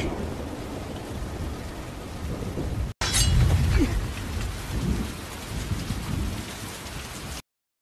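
Steady rain pours down in an anime scene, a dense even hiss that runs throughout. After a brief cutout it returns with a low thunder-like rumble beneath the rainfall.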